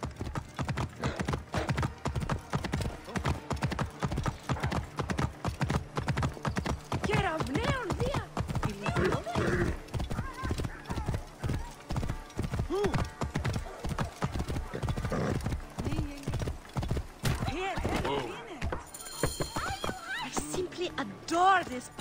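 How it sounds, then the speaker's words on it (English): Horse hooves clip-clopping steadily in Assassin's Creed Origins, a dense rhythmic run of hoofbeats through a city, with a neigh and talk mixed in over the game's ambience. "First, we must get my horse."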